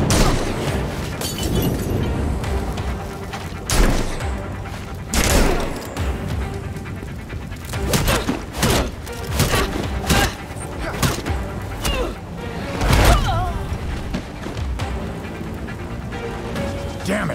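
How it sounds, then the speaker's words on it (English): Fireworks and explosions in the video game Gotham Knights: a series of sharp booms and bursts at irregular intervals over a rumbling background, with a voice speaking between blasts. "Enjoying the fireworks!"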